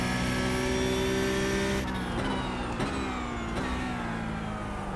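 A Porsche Cup race car engine in iRacing at Magny-Cours screams at high revs, then drops through quick downshifts with brief pitch dips while braking into the chicane, loud and continuous with no talk.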